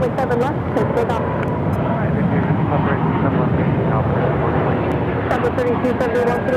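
An airliner takes off from runway 7 left at Phoenix Sky Harbor airport, a loud sustained engine roar heard steadily throughout, with air traffic control radio talk running over it.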